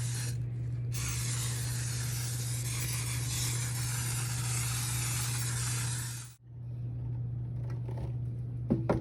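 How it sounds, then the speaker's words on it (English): A cooking spray can hisses steadily for about six seconds in one long, close burst, coating chicken for air frying, followed by a brief pause and quieter handling noises. "I have my cooking spray, and I'm gonna go ahead and spray it down nice and heavy again"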